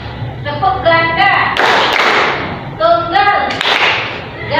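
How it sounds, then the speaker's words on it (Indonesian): Children in a classroom clapping game chant together, and two loud bursts of group clapping break through between the voices, the second one after a short pause. "tepuk ganda"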